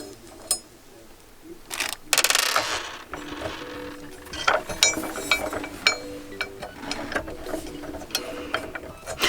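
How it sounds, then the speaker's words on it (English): Two small screws come out of a Thrustmaster HOTAS Warthog flight controller, with close ratcheting clicks, scattered metallic clinks and short mechanical rattles. "Now right here we have two little screws. So let's take them off."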